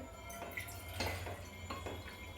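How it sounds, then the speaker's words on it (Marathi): A glass of water is poured into a bowl for a homemade drink. The pour is quiet and close, made up of a few short splashes and drips with no talk. "एका बाउलमध्ये आपल्याला एक ग्लास पाणी घ्यायचं आहे"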